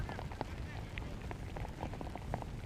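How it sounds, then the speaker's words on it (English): Rain patters steadily on surfaces at a cricket match in Portugal, a faint, continuous hiss dotted with scattered small drips and taps. "Still hear that rain."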